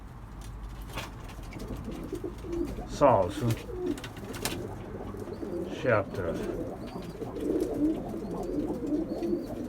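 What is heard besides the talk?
birds cooing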